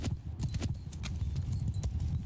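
Massed horse archers' hooves thunder across the ground in the Mount & Blade II: Bannerlord video game, a dense, continuous clip-clop of many riders close by and loud, with no talk.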